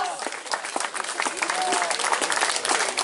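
Sustained applause from an audience at a traditional outdoor gathering in Strmin, Slovenia, dense steady clapping over the whole stretch with faint crowd voices mixed in.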